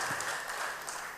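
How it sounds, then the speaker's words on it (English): Brief, moderately faint applause from a congregation at a worship gathering, a soft continuous patter of many hands with no voices over it. "Thank you for giving me a round of applause."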